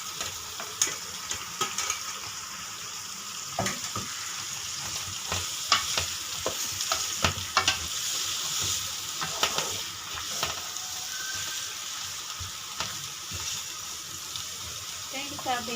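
Chili and spice paste sizzling and frying in a pan, a steady bright crackle with repeated stirring and scraping clatters throughout, fairly close and continuous, with no talk.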